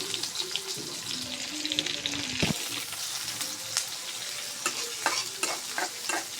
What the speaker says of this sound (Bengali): সুন্দর করে আমরা পেঁয়াজটা ভাজে নেব।